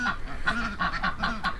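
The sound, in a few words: ducks and geese in a pen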